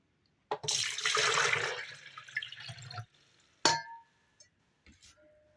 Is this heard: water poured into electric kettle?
yes